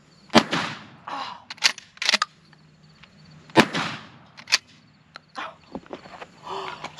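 A Mossberg Maverick 88 Cruiser shotgun fires outdoors with sharp, loud blasts at uneven intervals, separated by quieter handling clatter and rustling between shots.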